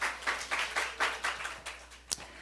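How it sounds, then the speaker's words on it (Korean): At a Sunday service in a Seoul church, the congregation gives a short burst of thankful applause: a few seconds of rhythmic clapping at moderate volume, ending with a single sharp clap. "감사의 박수 한번 하십시오."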